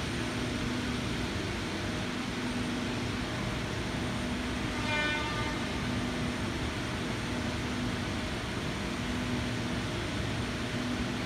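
A Sydney Trains train rumbles steadily at close range as it arrives at the platform, with a low mechanical drone and faint whine, running continuously with no voices.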